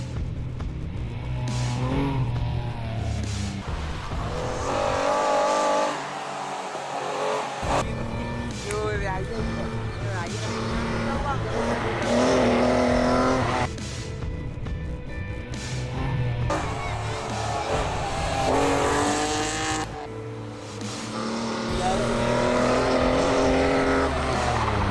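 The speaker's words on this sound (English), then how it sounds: "This was another memorable event as these jeeps thundered around the track" Modified jeeps roar around a dirt track at the Carlton Supercross 2013 race meeting, engines revving and rising and falling continuously as they pass, loud and close, with a voice talking over the racket.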